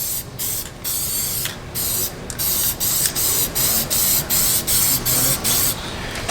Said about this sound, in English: So you spray using a spray bomb, you spray away from you